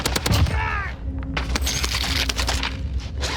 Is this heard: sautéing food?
no